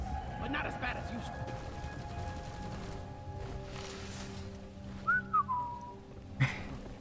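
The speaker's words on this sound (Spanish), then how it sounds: "El silbido asustador." In the video game Deep Rock Galactic, a thin, eerie whistle rises faintly out of the game noise, then brief sharp chirps and a thud follow near the end.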